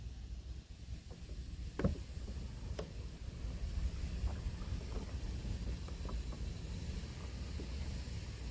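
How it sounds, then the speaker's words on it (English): Wind gusts steadily across open water during a boat fishing trip, a low continuous rush and buffeting on the microphone, with a few faint knocks from the boat and no talking. "I think this wind might play some games with us."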